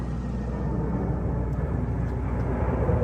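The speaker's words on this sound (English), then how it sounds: "And watch that giant plane. Look at this thing, Taze." A large airplane passes overhead with a steady, loud, low roar that holds throughout, with no voices.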